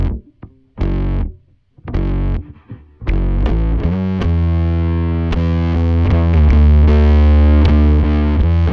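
Bass guitar played through a Bogren Digital Fatman amp sim run in parallel with the dry bass signal, giving a loud, distorted, growling tone: a few short chugged notes, then sustained ringing notes and chords with no talking.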